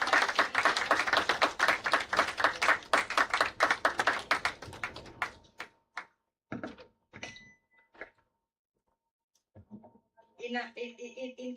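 Audience applause at a Soroptimist International club charter ceremony, sustained rhythmic clapping for about five seconds that stops abruptly, followed by scattered thumps and brief talk.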